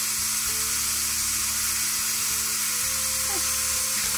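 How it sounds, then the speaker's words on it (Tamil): Banana stem sautéing in a hot pan for soup, giving a steady, continuous sizzle that runs through the whole stretch with faint background voices. "நம்ம இந்த வாழைத்தண்டை அதில் போட்டணும். அந்த அதிலே நல்லா வதக்கணும்."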